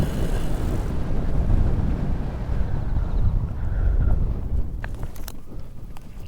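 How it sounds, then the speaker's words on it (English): Wind buffets the microphone in strong, rumbling gusts on a Korean island beside a paramotor, loud at first and easing toward the end as brief sharp knocks break through. "It's windier than I thought."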